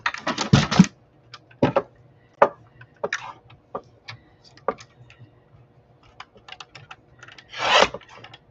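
Paper trimming for a Winnie the Pooh craft journal page: scattered short rasping strokes and taps, with a couple of longer scraping swipes near the start and end, close and fairly quiet, no talking.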